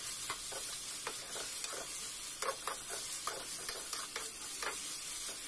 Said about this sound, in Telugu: ఆయిల్ వేసుకున్న తర్వాత ముందుగా మనం రెడీ చేసుకున్నాం కదా చికెన్ అయితే ఇలా ఫ్రై చేసుకోవాలండి.